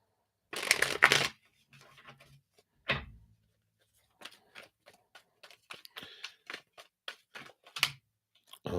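A quick riffle shuffle of a card deck up close, followed by scattered soft taps and flicks of cards being squared and handled.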